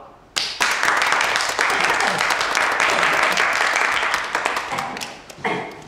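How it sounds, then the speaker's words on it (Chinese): A small group in a new environmental protection court office bursts into close, lively clapping that holds for about five seconds before thinning out, with some voices mixed in. "鼓掌。"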